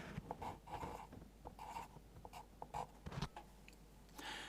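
A pencil writes a correction on paper in quick, close, faint scratchy strokes, bursts of scribbling separated by brief pauses.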